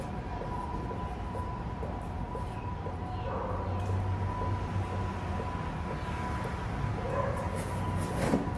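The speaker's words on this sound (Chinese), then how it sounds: "邻居家的狗狗在叫。" A neighbour's dog barks a few times at a distance, the short yips half-buried under a steady low mechanical hum and room noise.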